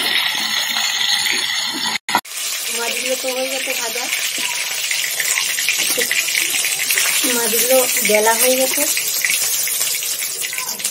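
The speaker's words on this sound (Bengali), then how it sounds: "তো তোমার মশলা বাটা গেছে, পাটাটা ধুয়ে উঠাই দাও।" A kitchen tap runs steadily while a stone spice-grinding slab is rinsed after making spice paste for tangra fish, a continuous close gush with someone talking over it.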